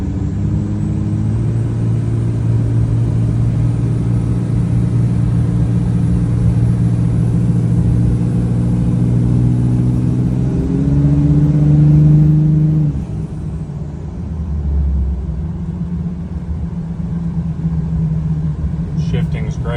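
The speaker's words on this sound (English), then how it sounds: "Straight pipe and that turbo sing, but it's really pleasant. It's not too loud in the cab." A 2005 Dodge Ram 5.9 Cummins diesel dually flatbed with a straight pipe and turbo, heard from inside the cab while driving: a deep steady rumble with a rising turbo whine that peaks and drops as the engine lets off, with a voice talking over it.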